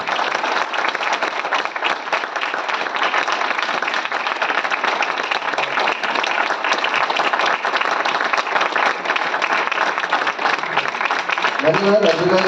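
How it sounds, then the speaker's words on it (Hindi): An audience gives thanks with applause for Arpita, director of a theatre production, a long, even burst of many people clapping that holds steady before a voice begins speaking near the end. "आप लखनऊ की तरफ से अर्पिता जी को धन्यवाद अपनी तालियों के माध्यम से पहुंचा सकें।"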